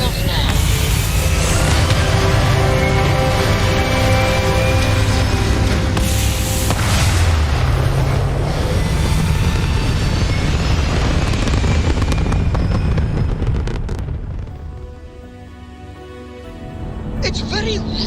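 A spaceship lifts off in the video game Starfield, a loud, sustained engine roar with rumbling booms that holds steady for most of the clip, then dips briefly and swells again, with talk over it.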